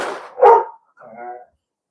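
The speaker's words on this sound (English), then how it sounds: "Pressure, you're barking at the door when there's nobody there to open it but me" A dog barks at a house door, a couple of loud close yips and a whining bark in quick succession, with nothing else around them.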